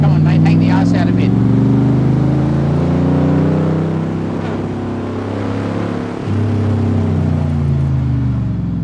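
A powerful V8 engine in a 2003 AC Shelby Cobra roars steadily, revving and shifting as it accelerates hard, loud and close throughout.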